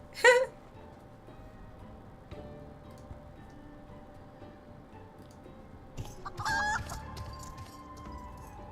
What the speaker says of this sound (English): stupid chicken's back.